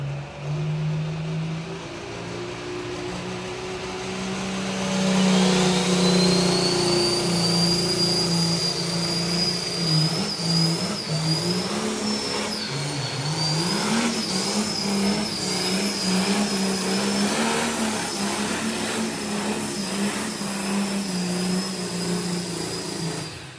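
A pulling tractor at a New York State tractor pulling competition roars under full power, with a loud sustained engine howl and a rising, wavering high-pitched whine heard from a distance over a long run.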